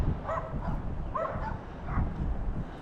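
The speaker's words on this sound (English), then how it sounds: "Neighbors have a dog or two." A neighbor's dog or two bark and yip in short bursts near a quiet old downtown cemetery, sounding moderately distant under steady outdoor background noise.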